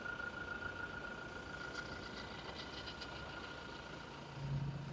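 A Toyota Innova Crysta engine idles at a low, steady hum with a faint, even mechanical tone, heard fairly quietly and close, with no voices.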